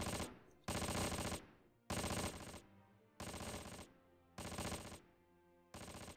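Gunfire in the Close Combat war game, loud bursts of automatic fire in five separate volleys about a second long with short pauses between, no talk.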